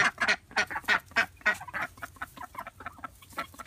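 A big young duck quacks close by in a rapid, rhythmic series of loud calls that taper into softer, quicker quacks.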